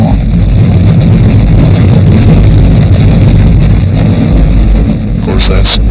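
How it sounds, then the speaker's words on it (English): Three Space Shuttle main engines igniting at liftoff, a loud continuous roaring rumble with wind-like buffeting, sustained throughout, with a brief crackling burst near the end. "You do hear the counting down and the main engines come on."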